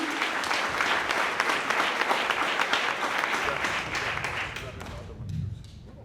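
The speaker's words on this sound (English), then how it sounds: "One final applause for all of our awardees" Audience at an awards ceremony giving a final round of applause for the awardees, a full, sustained burst of clapping that tapers off toward the end as a voice begins speaking.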